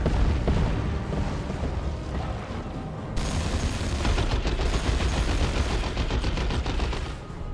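Sustained weapons fire from a Dawn of War 2 battle, with Eldar units such as a Warlock and Fire Prism under attack, forms a dense, continuous roar of rapid gunfire and blasts that grows fuller partway through, loud throughout with no talk.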